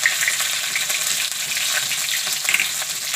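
Ginger drops into hot oil already seasoned with mustard seeds, cumin and green garlic for methi chana dal, giving a steady, close, even sizzle with light stirring throughout.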